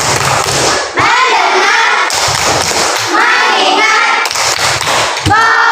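A classroom group of children doing a rhythmic clapping chant led by a teacher, with loud bursts of hand claps alternating with chanted words, close and full.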